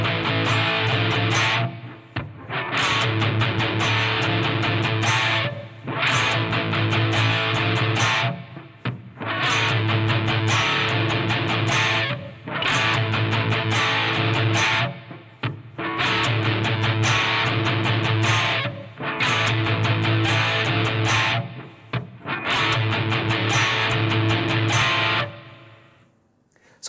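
Distorted electric guitar riff for a song intro, played in repeated loud, chunky rounds roughly every three seconds, each separated by brief gaps, with no voices.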